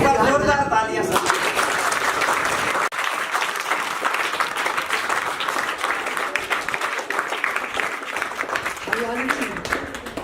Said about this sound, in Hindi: एक बार जोरदार तालियां सब